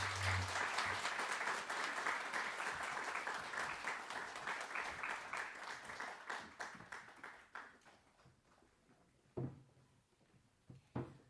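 A crowd at an awards ceremony applauds steadily with dense clapping that gradually thins and fades, leaving a few scattered claps and small knocks near the end.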